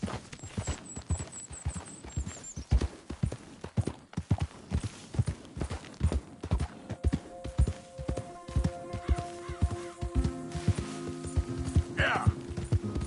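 Horse hooves clip-clopping in a PS4 video game, a steady rhythmic trot of sharp close hoofbeats, with tonal game sounds and a brief voice joining near the end.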